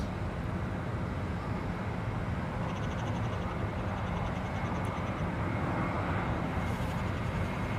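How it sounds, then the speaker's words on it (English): Emirates airliner, flight EK31 in Emirates Airline Foundation livery, at London Heathrow Airport, heard as a steady, broadband jet engine roar that holds at constant loudness throughout, with no voices. "Emirates Airline Foundation livery EK31"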